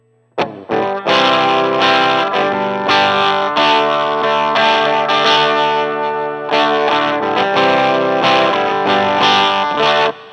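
A harsh, bright electric guitar on its bridge pickup through a Line 6 POD GO amp model strums and rings out loudly, gritty and buzzy with effects, sustained chords filling the whole stretch without talking.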